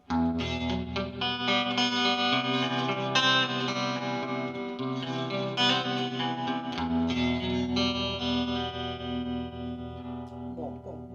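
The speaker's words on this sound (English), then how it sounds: "Love that deep swooshy tremolo thing going on." A 1960s Gibson Hawk electric guitar on its neck coil pickup, played through deep pulsing tremolo and heavy reverb, strummed chords and single notes ringing and washing continuously, loud and close with no talking.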